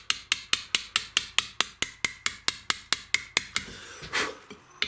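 A hammer strikes a chisel while carving letters in stone, with steady, evenly spaced metallic taps close up, about four per second. The taps continue for several seconds, then give way to a softer scraping sound.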